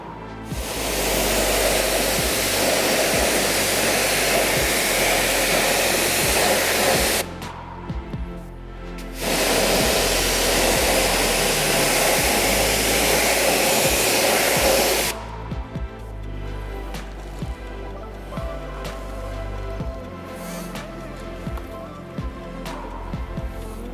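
A strong water spray rinses wheel cleaner off car wheels in two long, loud, hissing bursts with a short pause between, then drops to quieter dripping and trickling.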